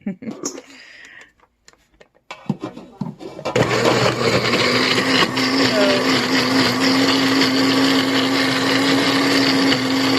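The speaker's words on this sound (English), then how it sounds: "I will blend all the chili pods." A kitchen blender grinds chili pods with a loud, steady roaring whine that starts abruptly and runs without pause. It follows a few seconds of handling sounds and a voice.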